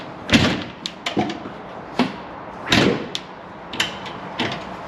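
A wobbly, flexing farm building door is pushed shut with several loud thumps and rattling bangs spread over a few seconds, close by.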